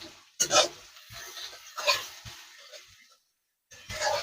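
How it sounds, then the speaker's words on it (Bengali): Onion fries lightly in a pan for prawn pulao, with a few separate scraping stirs of a utensil against the pan, close and moderately loud, split by a short silent gap. "পেঁয়াজটা একটু হালকা ভেজে নেব।"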